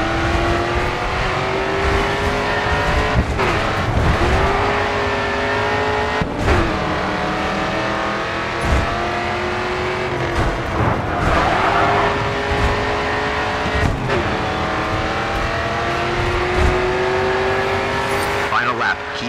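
Race cars roar through a GRID 2 video game race, engines climbing and dropping through gear shifts with tires squealing and skidding on the corners, loud and continuous, with a voice talking over the action.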